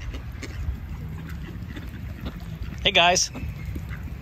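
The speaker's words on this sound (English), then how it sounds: "Right now the ducks think I'm feeding them" Ducks quacking in a short loud burst beside the sea at James Bay, Victoria BC, with wind and water noise around and a person talking nearby.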